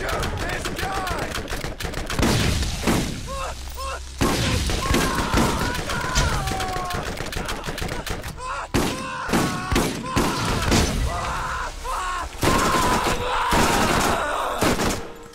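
Gunfire in the co-op shooter Borderlands, with repeated rapid shots and bursts of weapon fire throughout alongside thuds and booms, while players talk over the action.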